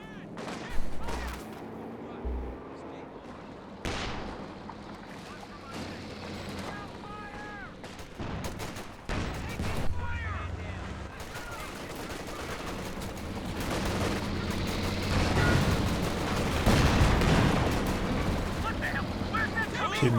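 Artillery fire in the real-time strategy game Company of Heroes 2, with repeated booming blasts and crackling gunfire rolling continuously through a busy battle soundscape at moderate loudness.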